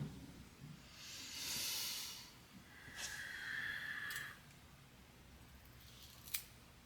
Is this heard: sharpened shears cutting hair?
yes